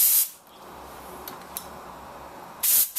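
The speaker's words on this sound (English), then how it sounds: "I'm able to go onto my pattern and spray my activator accordingly" Spray gun misting Warwick activator at about 10 psi, sharp loud hissing bursts at the start and end with a quieter airy hiss between them.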